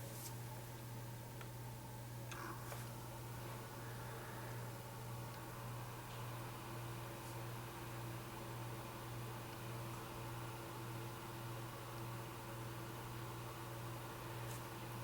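A Dyson AM09 hot/cold fan runs steadily just after being powered on, giving a quiet, even hum with an airy hiss and a few faint clicks, no talking.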